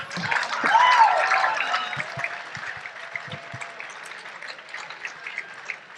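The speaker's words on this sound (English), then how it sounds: "Are you guys clapping for me or for my AI assistant?" An audience claps in a burst that swells and then tapers off, with scattered hand claps continuing quietly toward the end.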